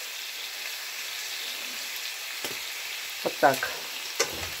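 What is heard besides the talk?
food frying in a pan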